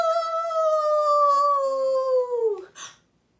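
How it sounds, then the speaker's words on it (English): A werewolf's long, drawn-out howl, loud and close, holding a steady pitch that slowly falls before breaking off into a short yelp at the end. "And that werewolf won't stop howling"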